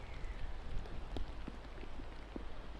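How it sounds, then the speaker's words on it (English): Rain falls on an outdoor disc golf course during a tournament round, a soft, steady wash of drops with a few faint taps, distant and quiet, with no talk. "and the rain is back"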